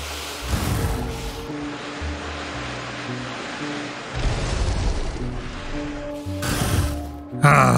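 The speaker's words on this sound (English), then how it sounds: "A giant grenade to the face" A giant grenade blasts apart a horde of biters in Factorio, heavy booming bursts and rumbling detonations recurring across the clip amid mechanical game clatter, loud and close.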